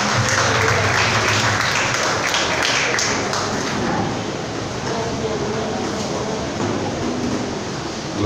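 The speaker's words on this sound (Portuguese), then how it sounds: "Vamos receber o pastor com palmas bem alegre para Jesus." A church congregation at a deliverance service claps in a dense, steady wash of applause that thins slightly partway through, with a voice faintly under it.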